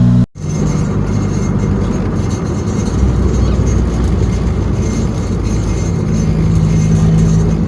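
A Ford Probe GT with an HX35 turbo cruises along, its engine drone steady and loud from inside the car with road rumble underneath, holding an even note throughout.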